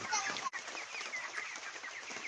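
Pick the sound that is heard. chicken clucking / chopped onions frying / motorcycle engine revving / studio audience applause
chicken clucking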